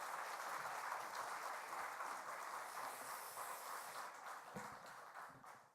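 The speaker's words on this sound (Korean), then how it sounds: "크게 박수로 환영해 주실 바랍니다" A church congregation applauds to welcome the pastor, with sustained, dense clapping that fills the hall and fades slightly toward the end.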